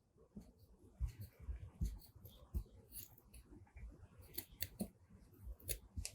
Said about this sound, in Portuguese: Vem com a sua tesoura e vai cortando com calma aí.